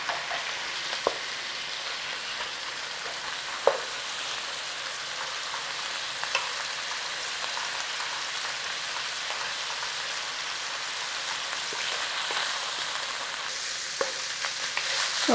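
Minced beef and onion browning in a pan give off a steady, even sizzle for the whole stretch, with a few sharp scrapes and ticks now and then and no talking.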